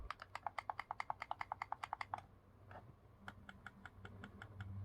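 Rapid, crisp plastic clicks from Xbox controller buttons in a steady burst, then a pause and a lighter, quieter run of clicks over a low background hum.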